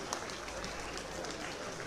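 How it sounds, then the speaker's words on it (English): Faint, continuous audience clapping at a coronation ceremony for the Oba of Benin, distant and steady with no clear individual claps standing out. "please, a round of applause"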